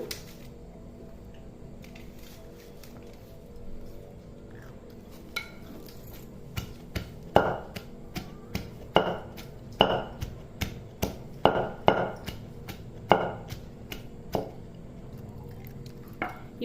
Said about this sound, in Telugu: రోట్లో కొన్ని ఈ కొబ్బరి తరిగి పెట్టుకున్న కొబ్బరి ముక్కలు వేసి మెత్తగా దంచుకుందాం